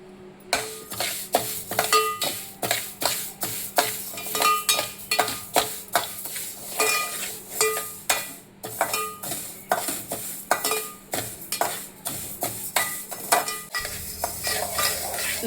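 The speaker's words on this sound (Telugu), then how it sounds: "మెంతులు ఇలా రెడ్గా వచ్చే వరకు వేయించుకోవాలి." Fenugreek seeds and cumin roast in a pan while a metal spoon stirs them in quick, regular scraping strokes that clink against the pan. A faint sizzle runs underneath, close and rhythmic, with no one talking.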